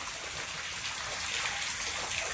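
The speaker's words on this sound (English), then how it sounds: "This one here, guys, got water running in it." Water runs through a dam, a steady broadband rush with no breaks, moderately loud and with no voices over it.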